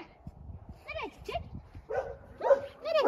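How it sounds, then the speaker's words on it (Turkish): Several dogs scuffle in a meadow, with short growls, yelps and whimpering barks coming in quick, uneven bursts at moderate distance, while people talk over the commotion. "köpeklerin kavgası başladı"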